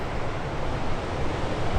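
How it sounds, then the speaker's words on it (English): Steady wind sweeps across an eastern beach campsite on Fraser Island, a broad, continuous rushing noise with possible surf mixed in, buffeting the microphone evenly throughout without voices. "A little bit windy on the eastern side at the moment"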